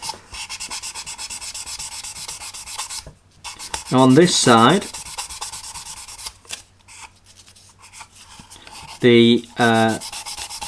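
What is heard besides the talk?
sanding a model kit to reduce scratch lines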